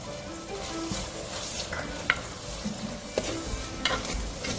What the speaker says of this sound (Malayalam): ഹൈ ഫ്ലെയിമിലിട്ട് വഴറ്റാം. ഉള്ളി നന്നായി വഴറ്റി വരാൻ കുറച്ച് ഉപ്പും കൂടി ഇടാം.